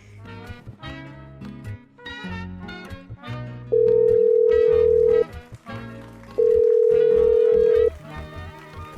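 Two long, steady ringback tones from an unanswered phone call, heard over background music.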